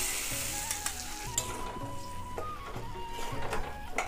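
A curry sizzles in hot oil as it is stirred, close and steady crackling broken by sharp clinks and scrapes of a utensil against the pan, with no talking.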